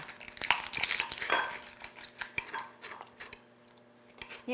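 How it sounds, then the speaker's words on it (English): Peeled garlic minced with a knife on a board, a close run of rapid chopping taps and scrapes that thins out to sparse strikes toward the end. "once I get it peeled, I'm going to go ahead and mince it"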